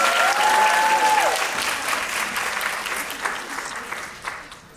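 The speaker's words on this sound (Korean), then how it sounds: "박수 한번 부탁드려요." Audience applause at a Bucheon International Fantastic Film Festival guest talk for the film Mogadishu, loud dense clapping fading gradually over several seconds, with a brief high whistle-like tone early on.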